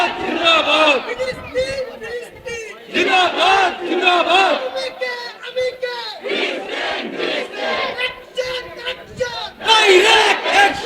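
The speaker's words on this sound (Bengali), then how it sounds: "কারা কারা ফিলিস্তিনের পক্ষে আছেন হাত তুলে স্লোগান দেন" A large crowd at a religious sermon gathering chants slogans in loud, rhythmic bursts, voices rising and falling together in repeated waves.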